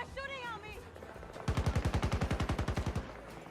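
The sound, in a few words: gunfire in Battlefield 2042 video game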